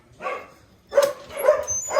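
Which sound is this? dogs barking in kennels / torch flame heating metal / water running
dogs barking in kennels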